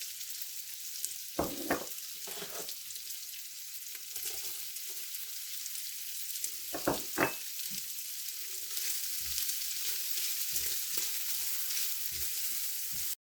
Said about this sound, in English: I'm going to go ahead and add my onions and celery to this. Let them start getting tender.